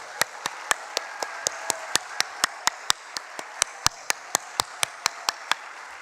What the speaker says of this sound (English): let's just give one giant round of applause to the 2022 Sunshine Coast Australia Day Reward